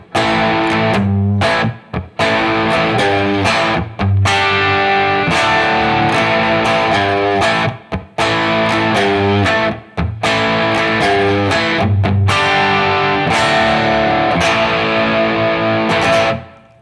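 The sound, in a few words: modified Telecaster electric guitar, distortion, single coil mode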